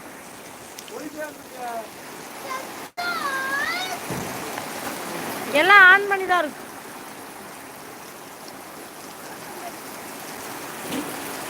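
Steady heavy rain pours in a dense hiss throughout, with a person speaking briefly and a few meow-like calls rising over the downpour.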